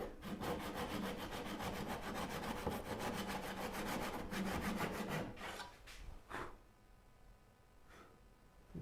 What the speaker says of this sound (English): I forgot to relief cut this one. That's why I'm doing it now.